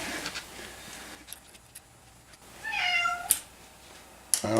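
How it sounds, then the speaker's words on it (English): A cat meows twice near a Makergear M2 3D printer, a rising-falling wavering cry followed by a short sharp call, over quiet room noise and faint clicks. "Oh, maybe it is a cat"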